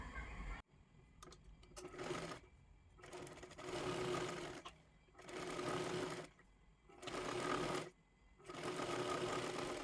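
A sewing machine runs stitching along the folded edge of a blouse strip, in several loud bursts of steady whirring separated by short pauses.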